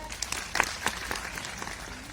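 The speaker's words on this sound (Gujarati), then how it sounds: "ખૂબ બધી તાળીઓ થઈ જાય ફરી એક વખત" An audience at a women's honouring ceremony applauds with scattered, fairly soft claps over a murmuring hall, distant and thin rather than a full ovation.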